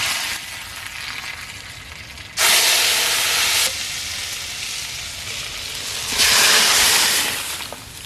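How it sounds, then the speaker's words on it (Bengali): Panch phoron spices dropped into hot oil for lentil dal, two loud bursts of sizzling hiss that flare up and settle back to a softer steady fry between them. "আমি পাঁচফোড়ন ফোড়ন দিলাম"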